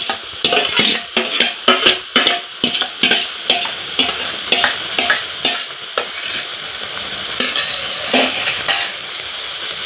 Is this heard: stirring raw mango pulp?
yes